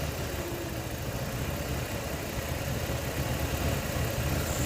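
A 2002 Ford Escape 3.0L engine runs at raised RPM with a steady, loping idle, its low, continuous rumble close and unbroken, with no talking.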